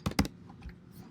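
Two quick, crisp clicks of a computer keyboard key being pressed close up, followed by faint quieter taps and near silence.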